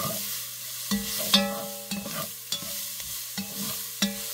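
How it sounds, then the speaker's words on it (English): About five garlic cloves fry in a pot for Zuppa Toscana soup, a steady close sizzle broken by repeated clanks and scrapes of a spoon stirring every half second or so, with no voices. "now we're gonna add in about 5 cloves of garlic"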